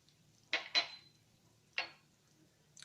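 A spoon clinks sharply against a metal pot three times as fennel powder, red chilli powder and ground yellow mustard go in for amla pickle, crisp close taps with a quiet room between them.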